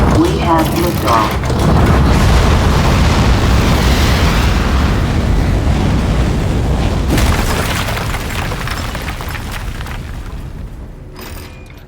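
A rocket lifts off in the Aperture Desk Job video game with a loud, deep, booming rumble that swells within the first seconds, holds heavy and continuous, then slowly fades.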